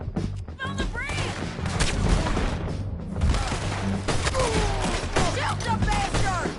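Gunfire in Red Dead Redemption 2, a run of loud shots and crashes in a chaotic firefight, mixed with shouting voices and game sounds.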